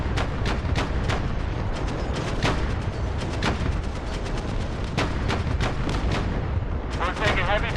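Heavy gunfire and artillery from a combined-arms battle in DCS World, a constant loud barrage of overlapping booms and rapid shots with no pause, dense and close throughout.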